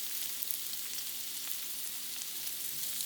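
Lobster tails sizzle in olive oil in a pan, a steady bright hiss of frying at close range with faint crackles and no voices.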